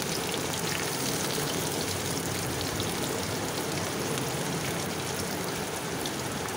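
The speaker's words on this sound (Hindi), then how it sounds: "अब इसे हम डालकर अच्छे से ब्राउन होने तक भून लेंगे।" Chopped onions fried in a pan with green chillies, bay leaves and cinnamon for chana dal tadka, a steady dense sizzle and crackle that holds evenly throughout with no voices.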